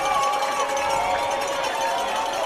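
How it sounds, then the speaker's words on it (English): Stadium crowd noise at a high school football game, Headland at Montgomery Catholic, a steady dense roar with cowbells clanging faintly in the background, with no break across the stretch. "Crowd making noise here. Some cowbells in the background."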